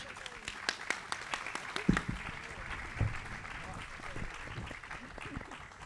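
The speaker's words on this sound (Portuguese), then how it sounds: "Uma salva de palmas, por favor." An audience claps at an evening literary gathering of authors in Porto Alegre: scattered, fairly soft applause with sharp individual claps standing out, under background chatter and movement.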